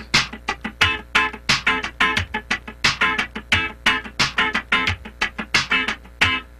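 Rhythmic funk guitar strumming, with dense muted scratches in a steady choppy pattern, close and bright with no voices.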